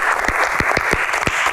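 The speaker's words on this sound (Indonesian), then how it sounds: "Tepuk tangan buat 3 bintang tamu spesial kita." Dense audience applause welcoming three special guests at an Indonesian Q&A talk show, steady clapping with a few sharper claps standing out.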